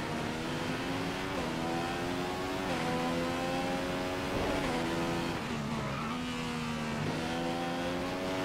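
In the F1 2015 racing game, a Formula One car's engine screams at high revs, climbing through gear after gear in a steady, loud, continuous whine with short dips at each upshift, and nobody speaks.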